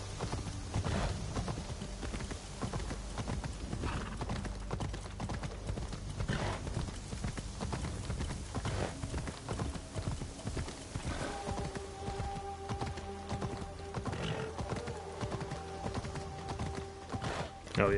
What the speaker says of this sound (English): Excellent horse traversal up those stairs.